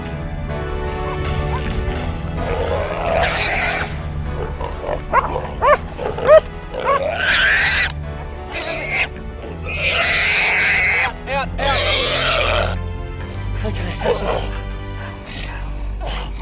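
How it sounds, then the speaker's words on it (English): Wild boars in lignum grassland give harsh, loud bursts of grunting and squealing that come in irregular clusters across the stretch, with a commotion of rustling and voices mixed in. "It's not long before more dangerous pigs are located."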